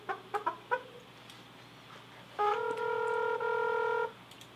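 A phone number being dialed: a quick run of short touch-tone beeps, then a longer steady ringing tone that stops, fairly quiet with no voices.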